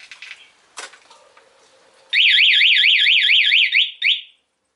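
A few beeps and chirps, then a Honda PCX motorcycle's anti-theft alarm wails rapidly up and down in a loud warbling electronic siren for about two seconds, ending with a short final burst.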